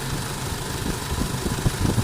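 A 2011 Isuzu D-Max engine idles with the air conditioning and fan running, a steady close rumble with a broad whooshing hiss over it and no talk.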